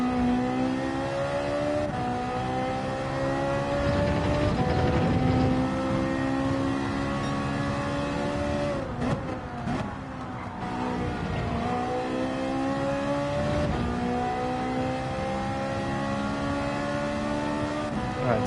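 A Ferrari in Gran Turismo 7 accelerates hard, its engine note climbing through the gears in repeated rising sweeps with brief dips at the shifts. The racing car stays loud and close throughout, with no talk over it.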